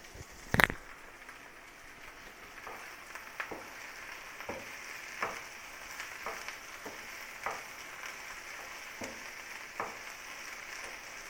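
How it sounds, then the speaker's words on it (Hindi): Okra (bhindi) frying in a pan for a spicy chatpati dish, a soft steady sizzle with small pops and occasional spatula clicks, one sharp knock near the start. "अभी हमारी भिंडी फ्राई हो रही है।"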